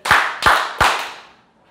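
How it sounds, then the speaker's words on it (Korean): Church congregation at a Wednesday worship service clapping in unison exactly three times, evenly spaced sharp claps that ring out and decay in a reverberant hall, with no talking. "잠깐 박수 3번 치고 다시 시작하겠습니다"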